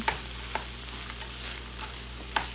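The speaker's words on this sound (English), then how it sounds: "So just give that a mix with the meat" Rice with vegetables and meat is stir-fried in a pan, a soft continuous sizzle with a few light scrapes of a spatula mixing it, quiet and close, no talking.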